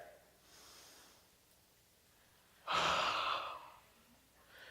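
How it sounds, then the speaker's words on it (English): A TEDx audience draws in a very deep breath together, a soft rushing inhale followed by a louder, longer collective exhale, heard from across the hall. "the first thing that we've got to do is to take a very deep breath"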